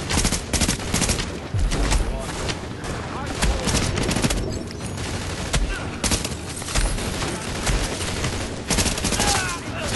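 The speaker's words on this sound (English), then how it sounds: "I am getting shot like crazy" Dense, continuous automatic gunfire and overlapping shots in the video game The Division, loud and close, with bursts running throughout with little letup.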